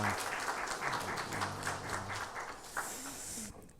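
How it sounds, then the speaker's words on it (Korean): A church chapel congregation at a university service applauds in thanks for the choir and accompanists, a steady wash of clapping that fades out near the end, with faint voices mixed underneath. "우리 감사의 박수 하겠습니다."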